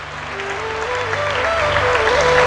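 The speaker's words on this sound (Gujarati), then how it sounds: "જોરદાર તાળીઓથી વધાવીએ છીએ." Applause breaks out during a cheque presentation at a girls' scholarship distribution ceremony held by a foundation in Rajkot. A steady wash of many hands clapping rises gradually, and a faint sustained tone runs underneath.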